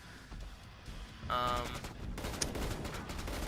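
Gunfire from pistols such as Desert Eagles in the video game Killing Floor, several sharp shots in a loud, dense burst with steady game noise underneath.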